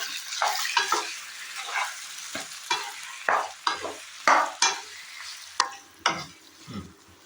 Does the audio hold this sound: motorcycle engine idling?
no